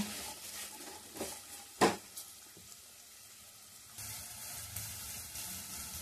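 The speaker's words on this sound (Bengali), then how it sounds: "ফুলকপি আর গাজরটা হালকা ভেজে নিয়েছি" Cauliflower and carrot pieces fry lightly in a pan for fried rice, giving a soft, steady sizzle with occasional stirring clinks and one sharp utensil knock, quiet and close, with no voices.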